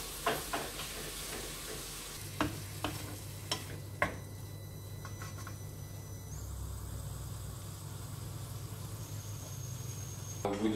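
Baby squid reduce with white wine in a hot pan for supions à la provençale, giving a soft, steady sizzle with occasional sharp pops and stirring clicks, close and fairly quiet throughout.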